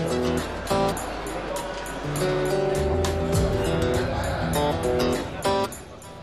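Smart 4.2 Brabus with 75 kilowatts, engine droning steadily as it drives, revs climbing and shifting between gears, under faint voices.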